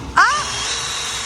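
A power drill spins up sharply with a rising whine, then settles into a steady high-pitched hum as it runs through pre-marked holes, close and loud with no talking.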